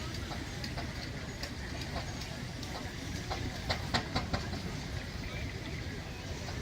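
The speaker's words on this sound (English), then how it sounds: "And it's another steam engine. You can see it's getting up there. He's going to drive it into that vehicle." A steam locomotive at a railway setting moves with a steady hiss and low rumble, faint rhythmic clanks rising over the top, heard from a moderate distance.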